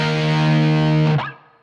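Heavily distorted electric guitar in drop D tuning plays a loud sustained riff note with a string bend, then cuts off and rings down into near silence.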